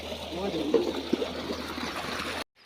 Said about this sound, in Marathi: आता एवढ्याच प्रकारे पाणी निघत आहे